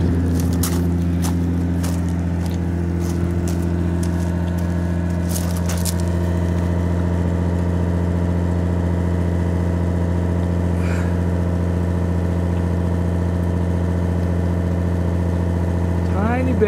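A 1985 Toyota Supra engine idles steadily, running slightly rich, with a low, even rumble throughout, close and constant, with a few faint clicks early on.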